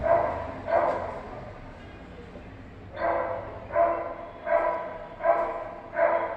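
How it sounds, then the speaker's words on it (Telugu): A dog barks in the distance, with two yaps early on and then five evenly spaced barks in the last half, moderately loud against quiet background noise. "ఇది కుక్కేలో అండి."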